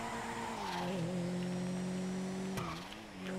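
A car engine in Grand Theft Auto 5 revs steadily during a wheelspin launch, with a sustained tonal motor hum that dips and recovers briefly near the end, heard alone at moderate volume.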